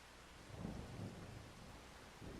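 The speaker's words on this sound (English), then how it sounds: "we just finished that right as it's starting to rain" Rain starting in the Farming Simulator 25 video game, a soft steady rain hiss with low rumbling swells like distant thunder, faint and continuous with no talking.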